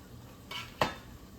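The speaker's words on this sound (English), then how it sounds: "stir my onions." Onions stirred in a cooking pot for a low-carb, gluten-free zuppa soup give two short scraping knocks of a utensil, the second sharper and louder, over a low, steady background.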